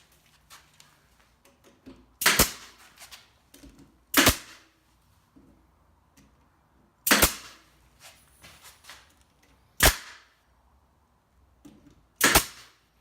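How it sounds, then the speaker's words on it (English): A pneumatic brad nailer tacks wood pieces together, firing five sharp, loud snaps at irregular intervals with quieter handling noises between. "I'm going to go ahead and tack those on with the brad gun"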